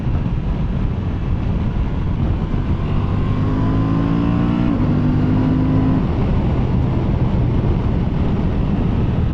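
A 2024 Honda XL750 Transalp motorcycle engine drones loudly and rises in pitch, with a few quick breaks as the quick shifter changes gears mid-pull; steady wind noise throughout.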